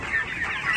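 A small hen clucks through a short, busy stretch of sound, the calls close and fairly loud over a rough, noisy background.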